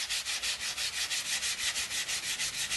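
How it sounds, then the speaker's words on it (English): A small sanding block works wood on a gunstock, a close, steady rhythmic rasp of quick back-and-forth strokes, about four per second, alone without talk. "come back with a small sanding block and carefully remove the wood down to the pencil line"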